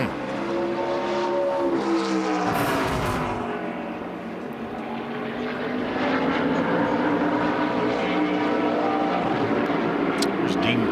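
Race trucks roar around Bristol's track during practice and qualifying for the 2022 UNOH 200, their engine drones sweeping up and down in pitch as they pass, loud and continuous under a commentator's voice.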